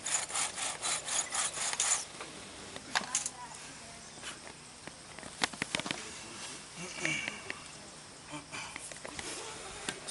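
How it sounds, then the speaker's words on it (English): Wooden bow drill spindle rubbing in its board during a fire-starting burn-in outdoors, a quick run of rhythmic sawing strokes at first, then scattered scraping rubs and light knocks. "So your spindle will flatten out a little with your burn-in after it goes out."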